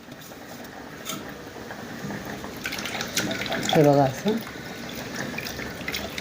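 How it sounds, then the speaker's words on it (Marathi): Grated raw potato is swished and rinsed in water, giving gentle sloshing and a short burst of splashing while someone talks over it. "पाणी घ्यायचं. हे पाण्यामध्ये सगळा किस टाकून घ्यायचा"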